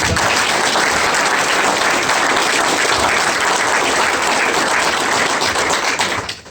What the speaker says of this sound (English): Please give all of our candidates a round of applause for coming.